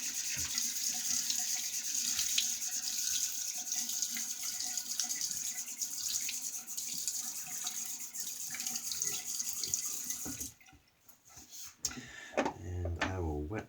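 A bathroom tap runs loudly and steadily into a sink for about ten seconds, close by, while a man wets his face before a shave. Splashing and a brief voice follow after the water stops.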